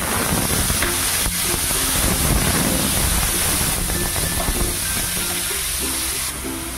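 Onion paste fried in hot oil with whole garam masala, cardamom, cinnamon, cloves and dried red chilies, giving off a loud, steady sizzle and hiss that lasts the whole stretch with no pauses.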